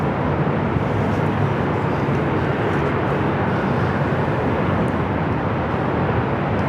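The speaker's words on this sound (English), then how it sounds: "The One World livery on the 777 at 300ER heading down to 25 at right" A Boeing 777-300ER airliner in oneworld livery roars with a loud, continuous broadband jet rush at LAX, steady and close throughout.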